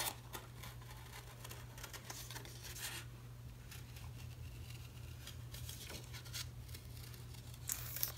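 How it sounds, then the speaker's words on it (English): Scissors snip through paper for a panda craft in short, quiet bursts, close up, with a steady low hum underneath and no talking. "I'm not trying to cut on the black line, even though that's what it looks like I'm doing right now"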